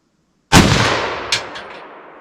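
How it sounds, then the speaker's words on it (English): A single loud, close rifle shot cracks out while a rifle is sighted in at an off-grid cabin, followed by a long rolling echo with a couple of fainter reflections fading away. "let's go ahead and sight that rifle in"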